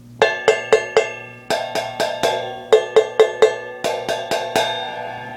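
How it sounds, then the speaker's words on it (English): Bright metallic pings from a drum-kit cymbal's bell struck in quick groups of three or four, each ringing out and fading, clear and close. "On each cymbal, there's something called a bell."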